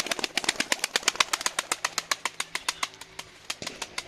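Pigeons in a coop, with an angry male harassing another bird, produce a rapid run of sharp, evenly spaced claps or flaps close up, with faint low cooing underneath.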